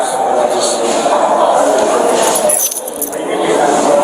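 Keys jangle and clink in a county jail corridor while an officer goes around to a door with a broken lock, a bright metallic rattle running throughout under nearby talk.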